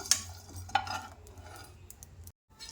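Phool makhana (lotus seeds) dry-roast in a pan and get stirred, making a few faint scraping and clinking taps over a soft low background, then a brief silence.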